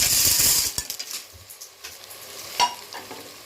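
Macaroni being stirred into mashed tomato in a pan, with a soft sizzle at first, then sparse scraping and clinking from a spoon against the pan, one sharper knock near the end, no talk.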